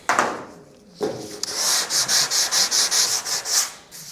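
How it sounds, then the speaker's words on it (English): Sandpaper is rubbed over car body filler on a C10 with light pressure: a couple of scuffs, then a quick, even series of about ten rasping back-and-forth strokes, close up. "Letting the sandpaper do all the work"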